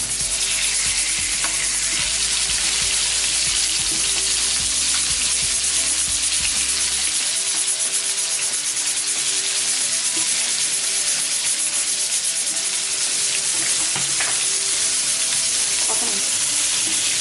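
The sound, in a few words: fish frying in oil for fish biryani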